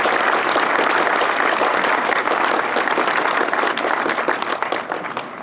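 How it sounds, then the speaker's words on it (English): Warm, sustained crowd applause honours Native American code talkers at Crazy Horse Memorial, dense and continuous, tapering slightly at the end. "Let's give them a round of applause"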